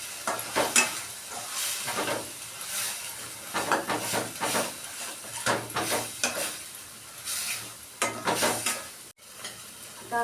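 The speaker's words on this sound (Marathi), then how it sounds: "व्यवस्थित त्याला आपण हलवून घ्यायचं" Chili powder stirred through fenugreek leaf bhaji frying in a pan, a close scraping spoon over a constant sizzle, the strokes coming in irregular bursts with no voices.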